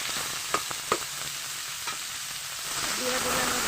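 Boiled potato stir-fries in a lightly oiled pan, a constant close sizzle with a few sharp scraping taps from the stirring spoon early on.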